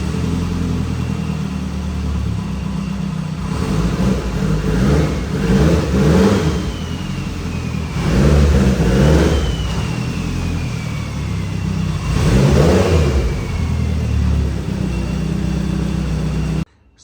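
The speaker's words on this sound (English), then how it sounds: "So here we got the Evo running" A Mitsubishi Evo X fitted with a new Varis bumper runs loud and close, its engine idling and then revving up repeatedly in a series of rising surges, with no voices.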